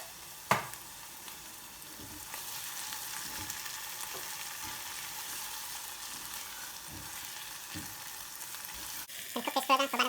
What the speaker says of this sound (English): we're going to add in our chopped tomatoes